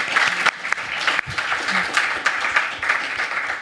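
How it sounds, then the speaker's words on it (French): A short burst of audience applause for a comedian's pun, steady and fairly close with a few louder claps, while a voice murmurs faintly underneath. "Applaudissements, s'il vous plaît, pour cette vanne"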